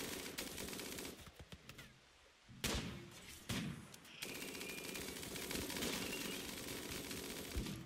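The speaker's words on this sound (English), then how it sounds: "Are they still firing at the downed one?" Rapid bursts of gunfire in the video game Rimworld: clusters of quick shots and sharp cracks with a brief lull in the middle, then steady firing, fairly quiet overall.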